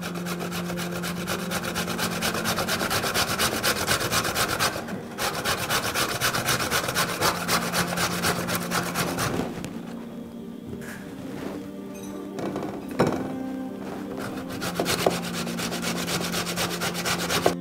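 Carrots are grated by hand on a grater in a kitchen, with steady rapid scraping strokes that pause briefly, then resume in shorter, irregular bursts.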